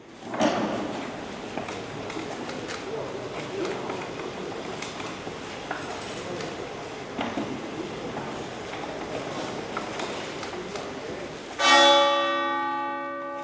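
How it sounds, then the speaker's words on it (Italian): The bell of the Torre del Bo at the University of Padua tolls during a ceremonial procession, a single bright ringing strike near the end that rings out and decays over quiet outdoor crowd ambience. "il passo scandito dalla campana della Torre del Bo"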